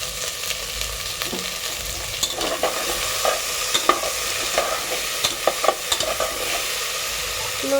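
Spiced potato curry with cumin, chili powder and salt stirred in a hot pan, a continuous close sizzle with scattered clinks and scrapes of the spoon against the pan.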